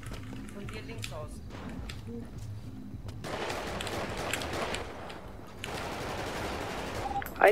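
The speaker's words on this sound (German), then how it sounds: "Ich werde beschossen!" Bursts of video-game gunfire crackle in the distance, with rapid automatic fire, while voices talk over it, in a GTA V FiveM police roleplay server.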